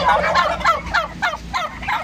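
Organically raised turkeys gobble in a series of about six rapid, warbling bursts, loud and close, with no talking over them.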